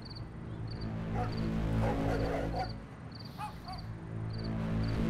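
A dog barks a few times in short, faint, distant bursts over a steady night chorus of chirping crickets.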